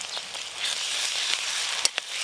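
Ginger paste and turmeric sizzle in hot oil over fried onions for a fish dish, a steady bright hiss with a couple of sharp crackling pops near the end, close and alone without talk.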